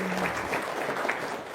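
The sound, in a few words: audience applause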